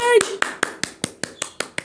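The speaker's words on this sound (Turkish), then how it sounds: "Sizin de beni alkışladığınızı duyuyorum" Single hand claps land in a slow, even rhythm, about eight in a row, close and fairly loud, following a brief voice at the start during a comedic poetry recital.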